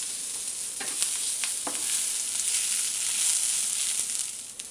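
Onions and garlic sauté in a pan with a close, steady sizzle, broken now and then by light stirring scrapes and taps, and no one speaking.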